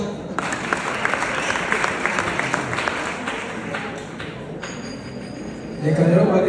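Audience applause at a wedding celebration: a steady wash of many hands clapping for several seconds, fairly loud and continuous, swelling slightly near the end.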